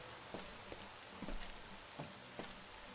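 Steady rain hisses across the whole scene in S.T.A.L.K.E.R.: Shadow of Chernobyl, a dense constant wash with scattered soft taps of drops, heard alone and fairly faint.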